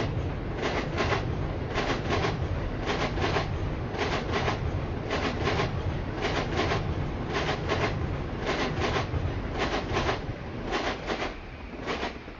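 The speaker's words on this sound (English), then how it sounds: "It's great to watch the trains go by, but then it's just the audio of it." Trains passing, picked up by a webcam microphone: a steady, loud low rumble with regular rhythmic clatter bursts repeating about every second, continuing throughout.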